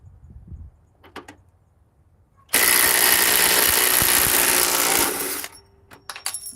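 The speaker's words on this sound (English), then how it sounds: "We'll put it against a different impact wrench." An impact wrench being tested fires in one loud, sustained burst of about three seconds, its harsh rattling hammer filling the space, with quieter clicks and handling noises before and after.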